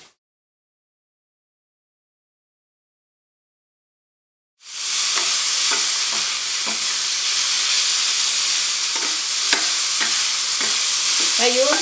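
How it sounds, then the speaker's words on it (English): Shiitake mushrooms frying in a hot pan, starting after a stretch of silence and then sizzling loudly and steadily, with scattered clicks and scrapes as they are stirred and tossed. "you're going to toss the mushrooms only about every 30 seconds or so until they're golden brown"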